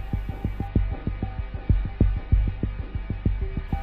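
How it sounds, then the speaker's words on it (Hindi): Heartbeat sound effect quickening, a rapid, regular series of deep thumping beats over a low hum, loud and close with no voices. "उसके कदम तेज हो गए, दिल और तेज धड़कने लगा।"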